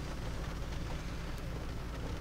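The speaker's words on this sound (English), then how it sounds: "The good thing is it's rain" Steady rain at about 40 degrees hisses continuously, a dense even patter with no pauses and no voices.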